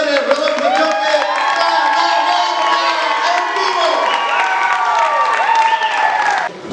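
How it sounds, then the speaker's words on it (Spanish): A live audience at a Bolivian event welcomes guests Hugo Gutiérrez and Rodolfo Choque with loud, sustained cheering and shouts under a tonal music bed, continuous throughout. "con este fuerte aplauso, lo vamos a recibir a Hugo Gutiérrez, Rodolfo Choque"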